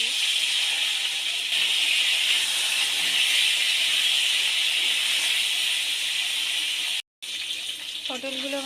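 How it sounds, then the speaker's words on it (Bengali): Pointed gourd pieces frying in hot oil in a home kitchen while a Bengali potato and pointed gourd curry is made; a loud, steady sizzling hiss fills the whole stretch, broken by one brief cut near the end. "এবার ওই তেলের মধ্যে কেটে রাখা পটলগুলোও ভেজে নেব।"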